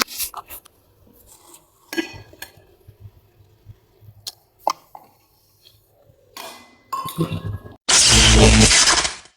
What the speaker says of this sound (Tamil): ரெண்டு ஏலக்காய் சேர்த்து பல்ஸில் ஒரு அரை அரைச்சிக்கலாம்